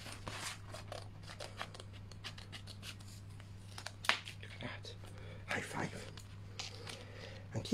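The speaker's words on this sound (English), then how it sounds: "There we are, cutting round there." Scissors cutting around a paper shape at a craft table, with a run of small close snips and paper rustles over a steady low hum.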